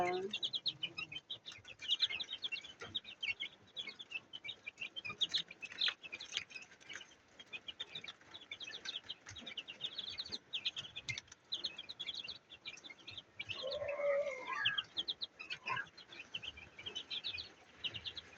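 Chickens and young chicks in a home egg incubator, giving steady busy peeping and cheeping throughout, with occasional soft clucks and brief wing flutters nearby.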